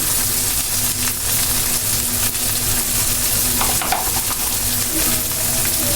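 Pangas fish fries with turmeric in a hot pan, a steady dense sizzle and crackle with occasional stirring scrapes, close and continuous throughout.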